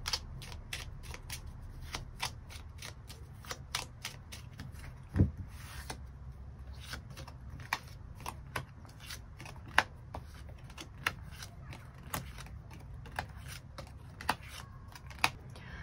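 Tarot cards are shuffled and drawn by hand nearby, making a long run of crisp, irregular flicks and snaps over a quiet room background.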